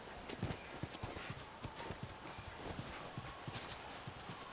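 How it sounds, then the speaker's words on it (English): Horse hooves in The Last of Us Remastered clop along at a steady walking rhythm, close and fairly loud over a soft ambient wash, with no clear neigh standing out. "you stay here and watch the horse"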